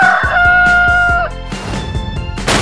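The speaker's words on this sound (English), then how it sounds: "Chicken." A chicken crows loudly with a long cock-a-doodle-doo, then clucks a few times in quick succession, close and clear.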